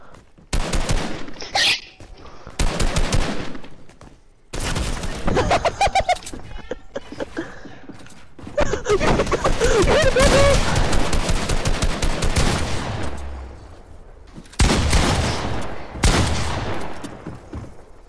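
Rapid gunfire in Fortnite, loud bursts of automatic and repeated shots in several long volleys separated by short gaps.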